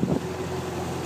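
A Colin Archer Draumen sailboat motoring under engine, a steady low hum with broadband wind and water rush across a short stretch, fairly close and constant.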